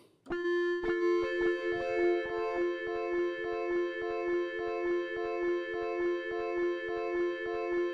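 A sustained, shimmering guitar tone held by a UDO Super Gemini delay pedal's freeze effect drones steadily while a repeated plucked note pulses rhythmically over it.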